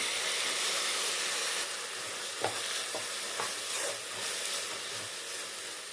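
Tomatoes hit hot oil with onions already fried for a brinjal curry, giving a steady, fairly quiet sizzling hiss broken by a few soft clicks, with no talking.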